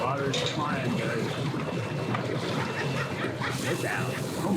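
Boats at a crowded ramp churning and splashing water, a continuous rough wash of engine and spray noise with wind buffeting the microphone, while people talk nearby.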